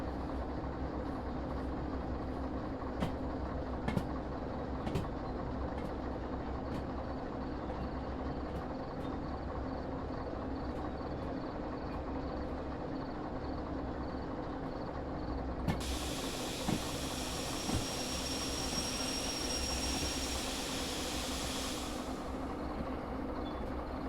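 A parked train engine idles steadily for a long stretch, with a low, constant rumble, sharp clicks and ticks scattered throughout, and a burst of hissing steam or air that starts partway through and then cuts off.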